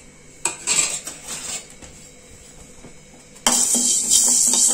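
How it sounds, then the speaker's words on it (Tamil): Metal clattering and scraping in a kadai pan as whole spices are dry roasted for a pepper chicken gravy, with intermittent stirring knocks and a louder, steady scraping toward the end, no talk. "இப்போ இதை பொட்டு எல்லாத்தையும் போட்டு நல்லா வறுத்துக்கலாம்."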